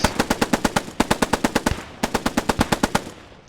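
A machine gun in the Post Scriptum video game rattles off three loud, rapid bursts of evenly spaced shots, each burst about a second long with brief gaps between, close and dominant.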